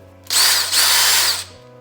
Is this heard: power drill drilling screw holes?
yes